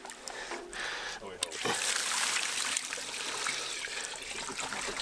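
Spring water trickling steadily and close by at a deer hunting camp in Michigan's Upper Peninsula, a continuous bright splashing flow with a few voices talking over it.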